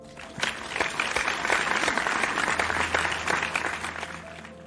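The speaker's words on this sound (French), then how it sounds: "Que ceux qui votent pour mes propositions applaudissent maintenant." Applause from a group voting on proposals by clapping, a steady wash of many hands that lasts several seconds with no talk.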